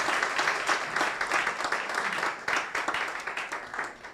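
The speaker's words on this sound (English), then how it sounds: "I thought that would attract a louder applause." Audience applause at a university press briefing, a steady wash of many hands clapping that swells and thins for about four seconds with no voices over it.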